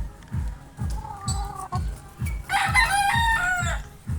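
A pet rooster crows one full, loud cock-a-doodle-doo at close range over a regular low thumping pulse, with softer fowl calls before it.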